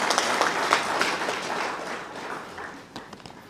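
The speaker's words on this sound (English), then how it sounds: "Can we please give Commissioner Clay a round of applause?" A crowd at a regional government address applauds in a broad, rolling wash of claps that fades gradually over a few seconds.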